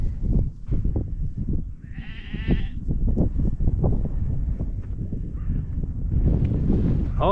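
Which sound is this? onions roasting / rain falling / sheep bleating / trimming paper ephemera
sheep bleating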